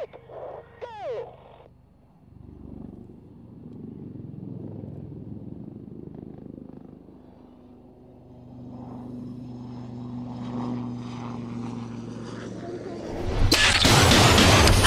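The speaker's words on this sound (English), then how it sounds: "And then note the aircraft departing with Break," Aircraft departing at an airshow, a steady propeller-like drone building over several seconds, then a loud broadband roar rising sharply at the end as it passes close.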